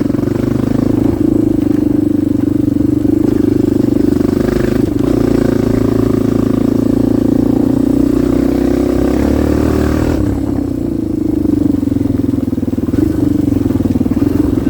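A Kawasaki KLX 230R dirt bike pulls hard in fifth gear, its engine holding a loud, steady drone close to the microphone for about fifteen seconds with a slight dip partway through.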